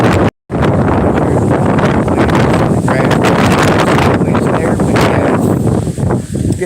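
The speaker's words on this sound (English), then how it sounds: "It's getting a little windy here." Strong gusts of wind near Hood River, Oregon buffet the microphone in a loud, continuous roar, briefly cutting out near the start.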